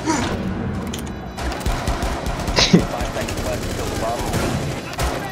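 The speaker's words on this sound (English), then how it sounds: "are you shooting into the smoke?" Gunfire in a video game, with shotgun blasts and bursts of rapid shots shown as a string of sharp bangs and thuds over continuous battle noise, while a voice speaks in between.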